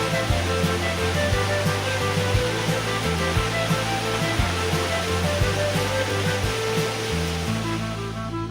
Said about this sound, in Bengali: এই ওয়াটারফলটা এখান থেকে এই সিঙ্কহোল ক্রিয়েট হচ্ছে